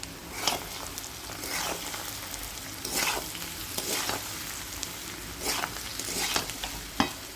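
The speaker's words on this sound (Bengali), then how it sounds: "এবার এটাকে খুব ভালো করে আবার একটু ভেজে নিয়ে তারপরে সুজিটা দেব।" Semolina (suji) frying in a pan while a spoon stirs it, a steady sizzle under repeated scraping strokes every second or so, close and moderately loud, with no voices.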